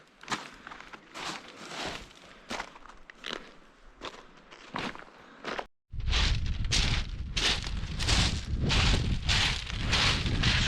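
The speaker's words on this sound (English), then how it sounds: "it's a total mission to walk on these pebbles" Footsteps crunch on a pebble beach at Auchmithie, a steady series of gritty, shifting crunches with each stride, growing louder and heavier partway through, over rough wind noise on the microphone.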